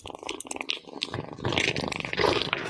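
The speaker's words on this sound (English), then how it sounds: "Listen to that purr." A contented cat purring up close, a low rumbling vibration that swells and fades with each breath, growing fuller and steadier in the second half, with no talk over it.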